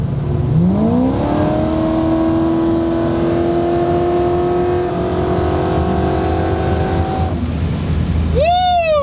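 A supercharged C5 Corvette accelerates hard and loud on a pull, its engine note and supercharger whine rising steadily and holding for several seconds before a shift and a quick rev change at the end.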